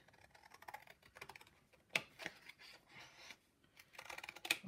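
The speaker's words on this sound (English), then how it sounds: "So let's just cut that round." Scissors cut around an old paper map to make a card, giving close irregular snipping and rustling with sharper clicks where the blades close.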